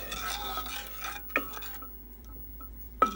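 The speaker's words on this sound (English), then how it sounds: "I'm gonna stir this until it's all dissolved" A spoon scrapes and swirls through churro mixture in a pot on the stove, with soft stirring strokes and a couple of sharp clinks against the pot, close and without talk.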